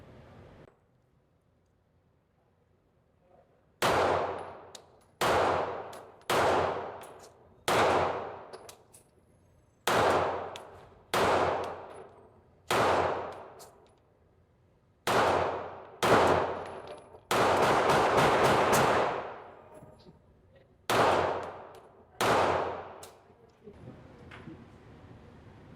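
Repeated gunshots at a fresh target during test firing after home gunsmithing work, roughly a dozen sharp, loud reports spaced one to two seconds apart, with one fast burst of several shots near the middle and no talking.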